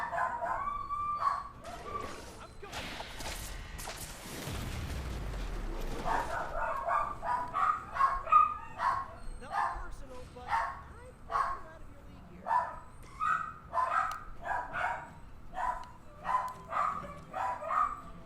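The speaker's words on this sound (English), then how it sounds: "Dogs going crazy." Several dogs bark in a steady run of quick, repeated yaps at moderate distance, continuing over a brief rumble and heard under talk.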